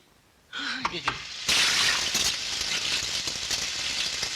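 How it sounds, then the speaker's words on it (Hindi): Voices speak briefly before a sudden loud rush of splashing, pouring water starts and continues steadily, close by. "ये आवाज कैसी? पानी की आवाज होगी।"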